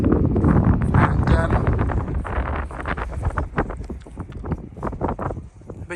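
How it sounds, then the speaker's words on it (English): Strong coastal wind buffets the microphone in steady gusts at a Cornish seaside spot near Land's End, with a rough low rumble running throughout while people talk close by. "It's windy."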